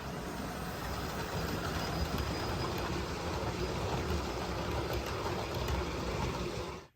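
A model train locomotive runs along its track during a model railway session, making a steady, close rumble that holds evenly throughout and then drops away abruptly at the very end. No voices are heard.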